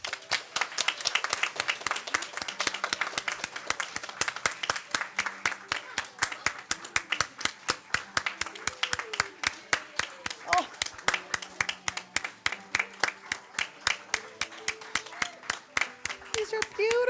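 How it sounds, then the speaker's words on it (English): A church congregation claps for children brought up during a sermon, a long run of sharp, distinct handclaps with voices talking underneath and a few scattered whoops. "Let's give them a round of applause."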